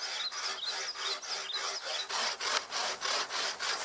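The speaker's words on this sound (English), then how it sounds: "I'm going to use the bow saw." A bow saw cuts through ash wood in steady back-and-forth strokes, about a dozen rhythmic rasping pulls, close and loud, with faint birdsong chirping in the background.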